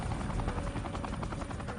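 Black Hawk military helicopter hovering low over rooftops amid swirling dirt during a troop rope insertion; a loud, steady rotor thump with a rhythmic beat and heavy engine roar, close and alone.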